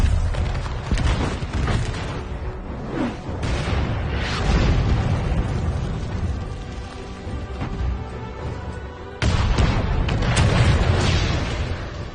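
Cannon fire in a Civil War battle: heavy, continuous booms and rumbling blasts overlap for several seconds, a fresh burst of explosions lands near the end, all loud and close, with no talking.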